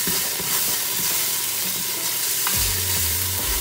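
Curry chicken with fresh thyme sizzles in a pot, a steady close hiss and crackle, with a spoon scraping and knocking against the pot as it is stirred, a couple of low thumps near the end.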